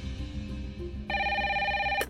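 A landline telephone rings indoors, its bright electronic trill starting midway and sounding steadily and loudly over a low background hum until it cuts off.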